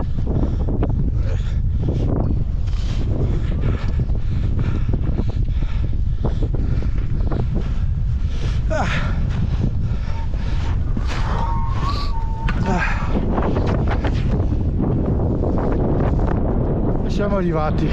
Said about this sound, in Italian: c'è un vento.